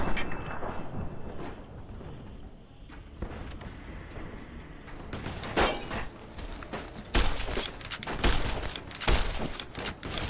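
Gunfire in Fallout: New Vegas, with loud cracking shots and shattering impacts in irregular bursts over a constant noisy game background, and the later half is busier.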